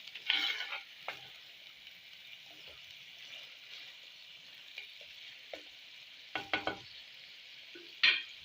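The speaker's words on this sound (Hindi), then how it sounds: "पाए मसाले के अंदर डालकर इनको हम 5 से 7 मिनट के लिए अच्छी तरह से भूनेंगे।" Mutton trotters sizzle steadily in masala in a pan for Lahori paya, with a soft continuous frying hiss broken by scraping stirs and clinks of a spoon, the louder ones near the start and end.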